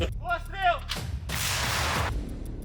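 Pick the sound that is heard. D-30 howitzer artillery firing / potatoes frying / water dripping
D-30 howitzer artillery firing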